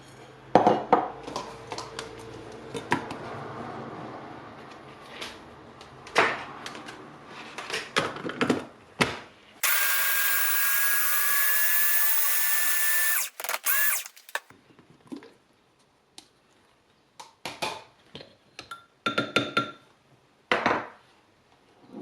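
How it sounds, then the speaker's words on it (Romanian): Scattered clatters and knocks lead into a loud, steady blender whir lasting a few seconds as walnuts are ground finely, then it cuts off and the clattering resumes. "Punem nucile într-un blender"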